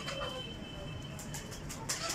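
A pigeon, a prized flying and breeding bird being shown by a fancier, gives soft, low cooing that runs close and steady under a busy background, with brief rustling and a faint voice near the end.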